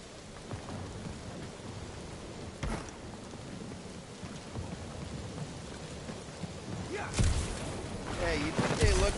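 Rain falls steadily in the video game Guardians of the Galaxy, a dense hiss of drops with occasional low thunder rumbles and louder bursts near the end, under faint voices.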